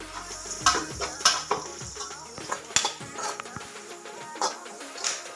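Grated coconut roasting in a pan for Malabar kappa biryani: a spatula scrapes and stirs in irregular clinking strokes over a light sizzle, close by.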